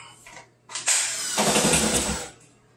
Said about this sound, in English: over here at B, I'm going to drill a little hole